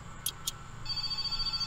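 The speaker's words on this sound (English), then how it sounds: "the phone again?" A telephone rings in the video game My Summer Car, with two short, fairly faint bell bursts near the start over a low steady background, followed by a sustained tone.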